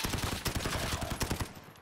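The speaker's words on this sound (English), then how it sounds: "somebody shooting already?" Rapid automatic gunfire in Call of Duty: Modern Warfare, a short burst of dense repeated shots at moderate loudness with no talk.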